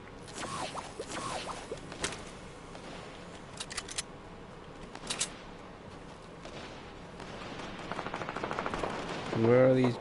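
Scattered bursts of video game gunfire, some single shots and some rapid volleys, crack at moderate distance against a quiet background.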